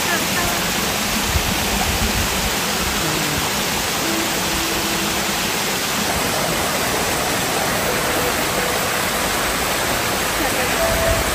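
A waterfall near Ushuaia in Tierra del Fuego roars in a steady, dense wash of close rushing water, unbroken throughout, with faint voices murmuring low beneath it.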